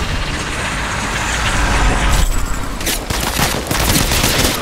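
Rapid gunfire crackles through an Apex Legends Mobile firefight in loud, dense bursts of overlapping shots that build and continue for several seconds, close and harsh.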